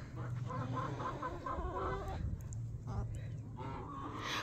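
Backyard hens cluck and chatter continuously on a farm, a busy flock heard up close with occasional louder calls and a steady background murmur throughout.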